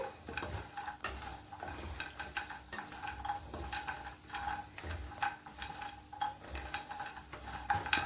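Dry fruits fry on a low flame in a pan, with soft sizzling beneath repeated scraping and stirring strokes of a spoon against the metal, faint and close with no talking.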